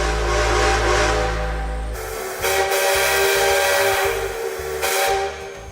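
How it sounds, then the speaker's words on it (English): The steam train whistle in Red Dead Redemption 2, pitch-shifted to resemble Sierra Railroad No. 3, blows in loud chords over rumbling rail noise, one long blast followed by two more. "Rockstar Games wanted the train's whistle to sound more like Sierra Railroad No. 3's whistle"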